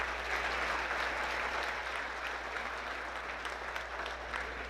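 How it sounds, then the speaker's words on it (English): Sustained applause from an awards-ceremony audience honoring the Golden Apple Committee, a steady dense clatter of many hands at moderate distance, even in level throughout with no voices over it. "how about a huge round of applause for the Golden Apple Committee for organizing this beautiful evening tonight"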